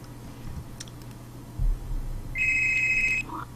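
A phone rings out unanswered during a call, a single electronic ring tone sounding for about a second over quiet background ticks and faint clicks.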